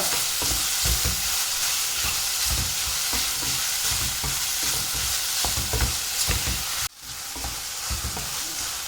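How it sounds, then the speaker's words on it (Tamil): Salted onions and tomatoes sauté in a pan for a vegetarian mock mutton liver dish, giving a loud, close, continuous sizzle with rhythmic stirring scrapes and no voices, until it briefly cuts out near the end. "வெங்காயம் தக்காளி நல்லா வதங்கிட்டுருக்கு"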